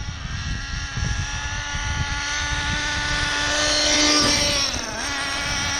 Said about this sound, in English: I hear the engine is starting to running better now